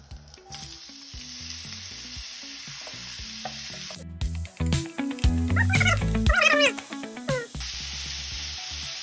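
Onion sizzles steadily in a hot pan for French onion soup, a constant crackling hiss with stirring noises and a few dog-like yelps or whines in the middle, close and fairly loud.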